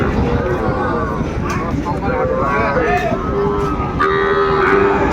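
Sahiwal heifer calves and cattle on a farm moo and low over a constant background of voices, with longer drawn-out calls rising toward the end amid the murmur of nearby people.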